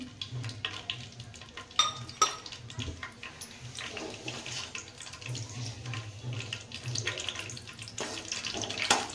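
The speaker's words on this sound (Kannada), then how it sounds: "ಸ್ವಲ್ಪ ಇದು ಚಟಪಟ ಅನ್ನಲಿ. ನಾನು ಸ್ವಲ್ಪ ಶೇಂಗಾ ಬೀಜ ಹಾಕ್ತೀನಿ." Peanuts crackle in hot oil in a pan while shavige bath is cooked. Soft, steady sizzling and spattering runs throughout with scattered small pops and occasional stirring clatter, all fairly quiet.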